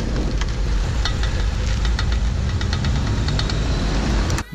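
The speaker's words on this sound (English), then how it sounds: "if you hear a clicking sound like this," Rapid clicking from a worn CV axle with torn boots on an Audi B5 S4 while turning, repeating steadily over a loud, continuous engine rumble, close by and persistent throughout.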